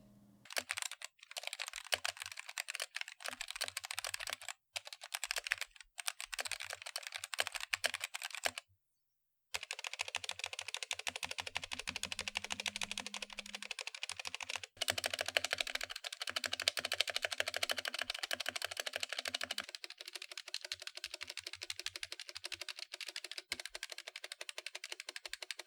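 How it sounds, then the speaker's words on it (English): Typing on a stock wired GamaKay K61 60% mechanical keyboard, a fast continuous clatter of crisp key presses at close range, with one brief pause, and no talking. "Here's what it sounds like stock."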